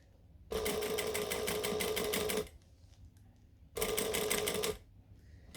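A sewing machine runs a decorative stitch in two fast mechanical bursts, a long one and then a shorter one, with a quiet pause between them.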